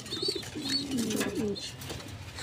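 A pair of Sirazi pigeons coo close by in a few soft, rolling calls over about two seconds, with no voices.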